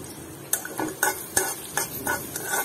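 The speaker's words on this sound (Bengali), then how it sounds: "আর পেঁয়াজটা একটু লাল লাল করে ভেজে নিব" Chopped onion frying in hot oil with salt added, a constant sizzle under roughly six sharp spoon strokes scraping the pan at an uneven pace, close and fairly loud, with no talking.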